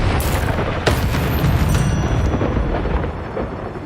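An Incendio fire spell blasts in Hogwarts Legacy during a fight with a giant spider, giving a loud, booming burst with a roaring, rumbling tail that fades over a few seconds. No talking.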